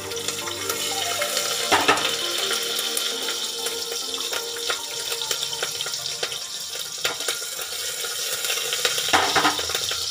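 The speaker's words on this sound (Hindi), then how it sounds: "मैंने जीरा डाल दिया है, अब हम डाल रहे हैं इसमें हरी मिर्च" Cumin seeds and green chillies sizzle steadily in hot oil in a home kitchen pan, a continuous loud frying hiss with occasional pops and clinks, no voices.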